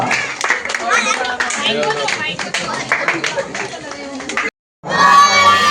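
A crowd claps and children shout at a neighbourhood youth club's games event for kids and elders in Kodinar. The clapping is loud and continuous under mixed voices, breaks for a brief pause, then resumes.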